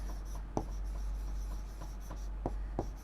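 Chalk or marker scratches across a classroom board in short strokes with a few sharper taps, heard close over a steady low hum.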